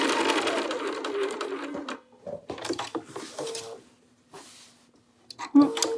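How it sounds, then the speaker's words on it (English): A sewing machine stitches a raw fabric edge near a quarter-inch seam. It starts with a steady run, then comes in short bursts broken by pauses, with light handling noises between the bursts. "I'm going to sew a little more than just edge stitching on this since it's a raw edge."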